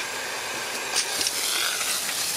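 A steady, broad hiss of water spraying from a garden hose, constant and fairly loud with slight fluctuations, no voices.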